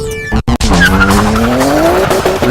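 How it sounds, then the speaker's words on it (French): Nissan Skyline R34 Nismo Z Tune spinning all four wheels in first gear on dry pavement: loud, close tire squeal with a rising engine note climbing steadily after a brief gap, sustained to the end. "En première, même sur sol sec, les 4 roues patinent"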